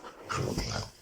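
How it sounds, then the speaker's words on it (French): A dog growls low and close in an indoor room, a short rumbling snarl lasting about a second with no talk over it. "C'est le chien."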